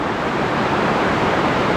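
Rushing water of Loop Brook in Glacier National Park, British Columbia, near a railway trestle, makes a steady, close broadband wash that holds at an even level throughout with no voices.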